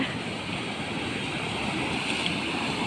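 Strong floodwater rushes past near Phimai, Nakhon Ratchasima, Thailand, overflowing toward a road. A loud, steady, close roar of churning water with wind buffeting the microphone, continuous and unbroken.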